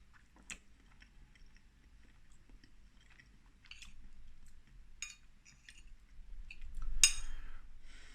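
Someone takes a spoonful of Iceland Christmas pudding and eats it, with a faint clink of the spoon followed by soft, close chewing and a brief, louder smack near the end.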